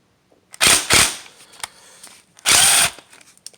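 Power tool loosening the cold air intake clamp on a 2004 Infiniti G35, three short loud whirring bursts separated by pauses, close up and with no talk.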